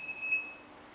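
A driver drowsiness warning alarm sounds as a pair of steady high electronic beep tones, one cutting off early and the other fading, alone over a faint hiss.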